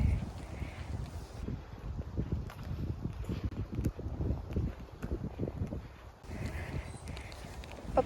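Wind buffets the microphone in low, rumbling gusts that come and go outdoors in Canada, with faint footsteps and distant background noise.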